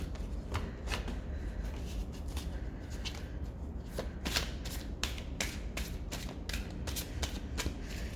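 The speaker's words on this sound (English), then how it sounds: "So one more shuffle, and then clear the deck." Rapid riffling of playing cards being shuffled repeatedly, crisp close bursts in a quick rhythm with no talking.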